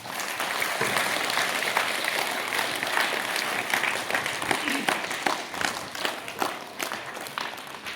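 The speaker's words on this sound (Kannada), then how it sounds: "ಜೋರಾಗಿ ಚಪ್ಪಾಳೆ ತಟ್ಟಿ" Audience applause at an award felicitation ceremony honouring Dr. Chandrashekar: loud, dense clapping from a crowd that holds steady for the full stretch, with faint voices mixed underneath.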